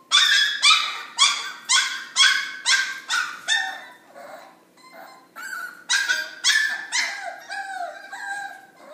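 Puppies let out a run of high, evenly spaced yips and barks close by, then a short lull of soft whimpers before another burst of rapid yapping and whining.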